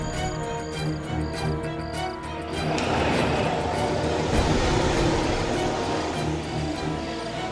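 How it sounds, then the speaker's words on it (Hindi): A bus engine approaches as a horror-drama sound effect, a loud, rising mechanical roar with rumbling and rattling that swells and then holds steady. "ये तो बस की आवाज है"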